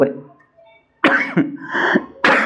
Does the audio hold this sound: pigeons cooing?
no